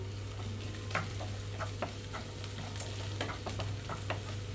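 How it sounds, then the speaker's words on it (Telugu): Okra and garlic cloves frying in a pan over a medium flame, a steady sizzle with scattered spatula scrapes and stirring clicks, close and moderately loud, with no talking. "మీడియం ఫ్లేమ్లో ఉంచి రెండు మూడు నిమిషాల పాటు వేయించుకుంటున్నాను"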